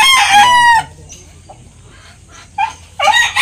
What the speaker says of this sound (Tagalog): So nandito nga pala yung mga binigay sa atin na manok.